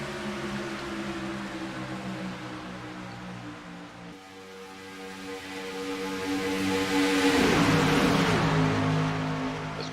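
Race cars at Daytona roar into turn 1, several engines droning together with shifting pitch, swelling louder and nearer midway as they pass, with no talk over them.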